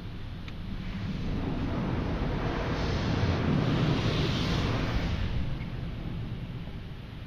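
A PDQ Laserwash 4000 touchless car wash blasts high-pressure water across the back of a car in winter, a dense, continuous roaring spray heard from inside the vehicle that swells midway and then eases slightly.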